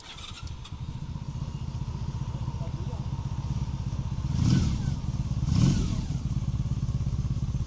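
A motorcycle engine idles close by with a steady, even purr. It swells twice in brief revs before settling back, and a voice speaks briefly over it.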